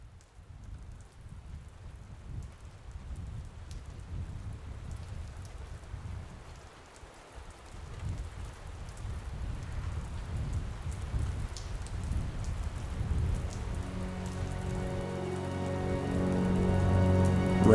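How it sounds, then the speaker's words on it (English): Steady rain falling on surfaces with gusting wind, a dense hiss of raindrops throughout that swells louder toward the end, no voices. "a sharp, biting wind that slapped raindrops against already wet faces"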